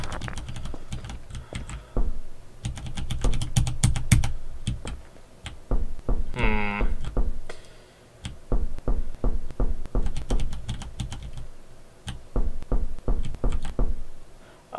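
Player footsteps in a Garry's Mod horror map, sounding like sharp wooden knocks in fast rhythmic bursts, close and loud, with a brief rising electronic tone partway through.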